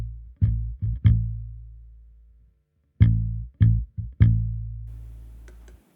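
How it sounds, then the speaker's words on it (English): A bass guitar plays two short phrases of plucked low notes, each ringing briefly before being muted by the fretting hand, with clear gaps of silence between the groups. "you can play a note with your index finger and then rest your fingers on top of the string to mute the rest of the sound"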